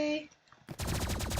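Energy pulse weapon firing in the Roblox game Rivals: after a brief lull, a loud, dense burst of rapid repeated shots runs to the end, following a moment of talk at the start.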